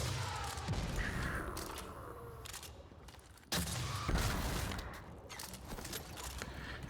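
Grenade launcher fire and explosions in the video game Destiny 2, a dense stretch of booming blasts and crackling impacts with a sharp new burst midway, loud and continuous with no talking.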